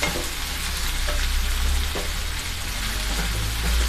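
Onion and garlic are frying in a pan for a salted hilsa chutney, with a continuous close sizzle and occasional stirring scrapes and no speech.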